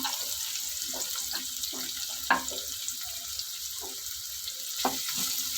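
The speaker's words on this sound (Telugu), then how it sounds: "ఆయిల్ పోసుకున్నామండి. కట్ చేసుకున్న ఆనియన్స్ వేసుకున్నాం." Chopped onions frying in oil for chicken gongura, a steady soft sizzle with occasional louder pops and crackles, close by with no talk.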